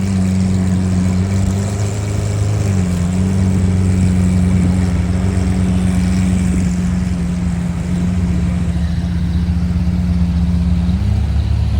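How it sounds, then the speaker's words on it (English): A loud car engine with an aftermarket exhaust rumbles with a deep note, idling steadily and rising slightly in pitch as it revs, close by, leaving a car show. "Most definitely got an exhaust on that."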